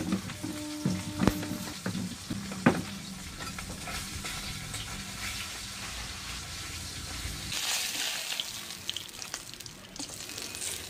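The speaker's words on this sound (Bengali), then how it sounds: "মাছের তেলটা সর্ষের তেলের মধ্যে হালকা করে ভেজে নিলাম" Fish fat frying in mustard oil in a pan, crackling and sizzling steadily up close with scattered pops and spatters, no talk over it.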